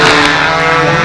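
A model airplane flies at a windy 1999 Brodak fun scale event, its small engine giving a loud, steady, buzzing drone that stays close and unbroken for the whole second.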